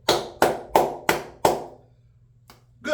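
A few hands clap five times in a slow, even rhythm, loud and close, then fall quiet before a faint tap and a louder final sound at the end.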